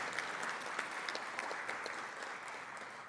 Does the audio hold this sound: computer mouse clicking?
no